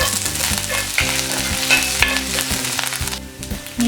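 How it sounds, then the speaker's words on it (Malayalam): Garlic-ginger paste and curry leaves sizzling in coconut oil in a pan, a steady loud frying hiss broken by repeated stirring scrapes, close up with no voices. "കുറച്ച് വെളുത്തുള്ളി ഇഞ്ചി പേസ്റ്റ് നമ്മൾ സോട്ട് ചെയ്യാം."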